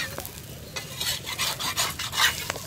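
Besan chilla frying in ghee on a pan as it is turned over, a steady close sizzle with crackling bursts and soft scraping, no talk.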